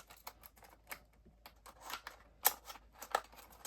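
Scissors snipping out a part during an RC crawler build of an SCX24 model, a few quiet, crisp cuts and small plastic clicks scattered through a near-silent room.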